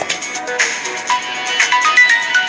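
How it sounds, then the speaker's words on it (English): A mobile phone ringtone plays nearby, a bright repeating melodic tone lasting a couple of seconds with no talking over it. "That was my phone."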